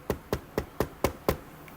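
Knuckles rap on wood six times in a quick, evenly spaced rhythm, close and crisp with no talk over them.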